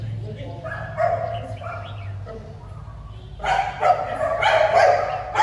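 A Malinois K9 protection dog guarding a car in Gia Lai barks and yips in short bursts, louder toward the end, with a voice talking over it.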